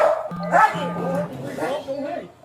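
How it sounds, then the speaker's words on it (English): Police K9 dog barking and yipping at a suspect during a shooting-suspect track, close and loud, with whimpering notes, mixed with an officer shouting commands over it. "You will get bit by a dog if you run!"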